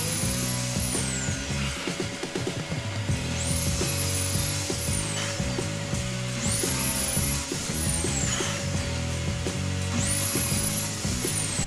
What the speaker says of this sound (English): I'm going to go ahead and pre-drill the pocket holes in them